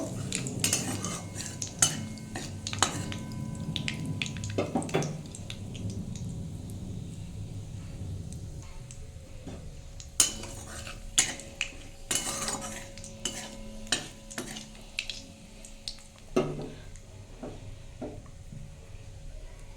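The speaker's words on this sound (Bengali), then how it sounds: "শুকনো লঙ্কা ফোড়ন দিয়ে দিলাম একটু কালো জিরে দিয়ে দিলাম দিয়ে বন্ধুরা ফোড়নটা একটু ভেজে নেব" Dried red chillies and black cumin spit and crackle in hot oil in a pan. Scattered sharp taps and scrapes from a metal utensil run through a soft, steady background hiss, with no one speaking.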